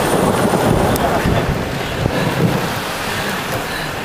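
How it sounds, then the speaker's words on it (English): Heavy rain pours down during a lightning storm at the Hoover Dam bridge. It makes a dense, steady roar with gusty wind buffeting the microphone throughout. "Raining hard."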